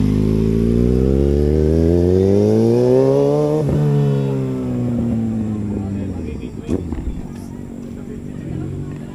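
A Kawasaki ZX6R sport motorcycle engine revs up in a rising pitch sweep, then drops back and idles unevenly, loud and close throughout a test ride, with some voices faintly mixed in.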